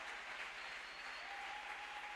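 A church congregation applauds steadily throughout, a dense, even wash of clapping hands that holds at the same level from start to finish.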